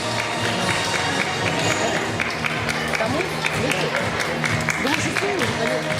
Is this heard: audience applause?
yes